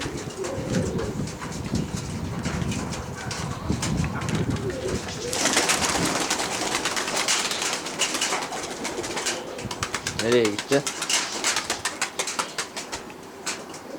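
Pigeons from a performing-breed loft coo close by, joined by bursts of wing flapping as the birds take off and circle, with no talk over them.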